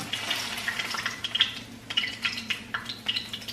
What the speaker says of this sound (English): I'm actually here frying some tofu to make some sandwich tomorrow for my lunch